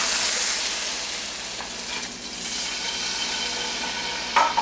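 Pan-seared pork chops sizzle in a hot pan, a loud continuous frying hiss close by, with soft stirring and scraping movements and a small clatter near the end.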